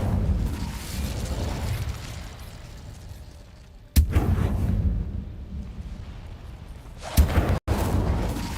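An Incendio fire spell cast in Hogwarts Legacy, heard as two sharp whooshing bursts of flame over a low ambient rumble, each blast sudden and loud, with no talking.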